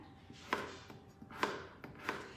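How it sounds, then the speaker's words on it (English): A knife chops a beet into small pieces on a cutting board for roasted summer vegetables, with three or four crisp, distinct cuts spaced about a second apart against quiet background noise. "I'm going to cut the beet into as small as pieces as I can because it cooks much slower"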